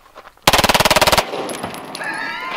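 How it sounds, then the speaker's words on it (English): A Glock 17 9mm pistol fires on full automatic, a single loud, rapid burst of about a dozen shots lasting under a second, followed by ringing echo and some background noise. "Look what a 9mm can do at the full rate of automatic."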